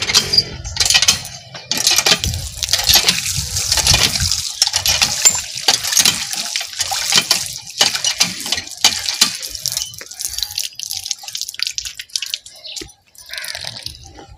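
Hands being washed under running water outdoors after handling cow dung, with splashing, trickling and dripping that comes in irregular bursts, close and fairly loud, then thinning out toward the end.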